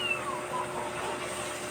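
A kitten meows in short, thin cries while its nails are being clipped, the calls close and fairly loud over steady background noise, with no talking.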